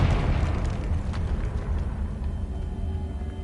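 A Confringo fire spell blasts in Hogwarts Legacy, a loud sustained booming explosion with deep rumbling low end that stays heavy and continuous throughout, with no talking.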